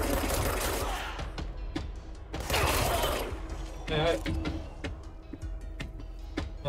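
Bursts of rapid gunfire crackle amid mechanical clicks and game noise in the video game Control, with loud volleys early and midway through.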